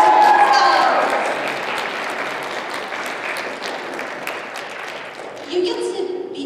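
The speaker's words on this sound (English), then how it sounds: "big round of applause for these guys" A convention audience at a Sailor Moon panel gives a big round of applause for the cast guests; the dense clapping starts loud, slowly thins, and a voice rises near the end.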